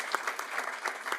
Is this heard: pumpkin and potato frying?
no